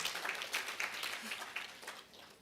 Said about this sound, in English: Another round of applause as I call upon.